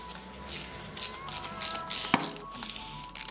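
Handlebar bolts being unscrewed on a 2022 Yamaha MT07 make close metallic clicks and ratcheting taps, with one sharp clack in the middle, over a low background hum.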